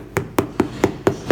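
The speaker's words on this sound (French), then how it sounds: "on les met en place, avec un marteau pour bien les assembler" A hammer strikes rubber stable mats for horse boxes six times, tapping them into place in an even rhythm. The blows are close and sharp, with nobody speaking.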